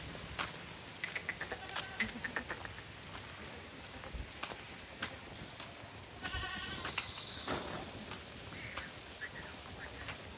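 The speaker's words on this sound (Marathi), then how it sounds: "बघा एकदा नजर मारा मित्रांनो शेळींवरती." Kathiawari goats at a sale bleat in scattered, fairly faint calls over a quiet background with light clatter, several animals calling at irregular intervals.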